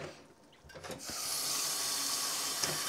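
Water runs from a tap into a jar of freshly dyed cotton yarn, starting with a few clinks and handling sounds before a steady hiss of flow fills the rest, quiet and close.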